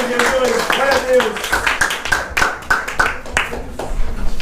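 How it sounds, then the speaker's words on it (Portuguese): A church congregation claps in worship, irregular sharp hand claps ringing in a hall while voices sing and call out over them. "Aplauda o nome do nosso Deus"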